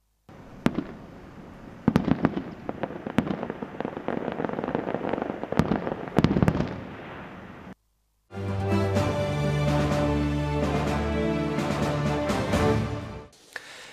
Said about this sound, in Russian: В честь Дня чеченской женщины и завершения выборов в регионе был дан праздничный салют.